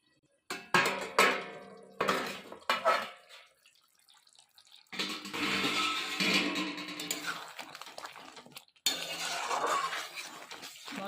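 Spice masala is stirred and sautéed in a covered pot. Clanking lid and ladle sounds come in bursts, with a sizzling scrape of spices between them and a short quiet gap.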